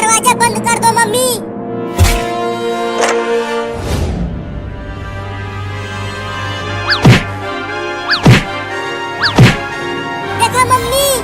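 A cartoon cat bangs against a closed door, several sharp thuds spaced apart, with voices talking throughout.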